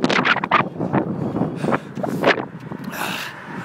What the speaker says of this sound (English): Can't actually describe to you how windy it is.